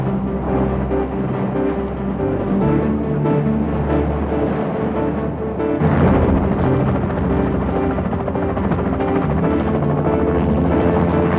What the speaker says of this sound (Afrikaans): Hulle 3 bote en 'n helikopter uit om te soek na Ouboet